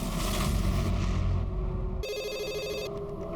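A telephone rings once with a short electronic trill, following a stretch of dull rumbling background noise.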